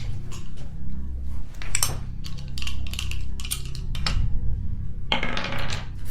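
Dice clatter and tumble across a hard surface in several quick rattling bursts, close by, over a low background hum, during a tabletop role-playing game session.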